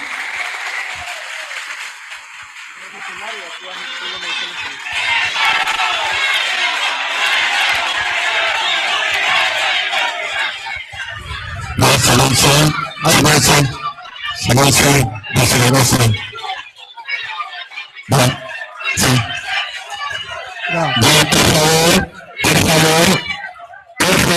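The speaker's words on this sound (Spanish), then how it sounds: "público presente, por favor, fuerte las palmas" Audience applause at a regional political debate in Ica, Peru, a sustained crowd clapping with murmuring for about twelve seconds, then repeated loud bursts of cheering or clapping broken by short pauses.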